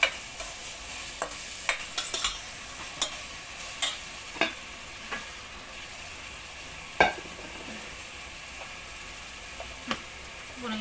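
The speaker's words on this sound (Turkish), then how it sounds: "şöyle hemen kavurayım" Food sautéing in a pan with a soft, continuous sizzle, broken by sharp scraping taps as a utensil stirs and knocks against the pan at irregular intervals, recorded close up with no talking.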